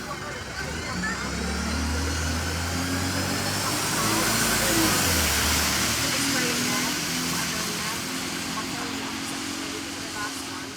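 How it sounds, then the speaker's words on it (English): A 35A bus pulls into Torbay Hospital, its engine a low steady drone that swells as it draws close and then settles, with a broad hiss of road and air noise around it. "Here is my 35A bus arriving into Torbay Hospital, running around 7 minutes late."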